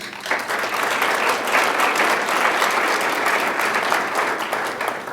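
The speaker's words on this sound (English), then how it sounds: "Let's give a round of applause to Ashley Luevano." An audience applauds at a school board meeting honoring students, with sustained, even clapping from many people in an indoor hall, steady from start to finish.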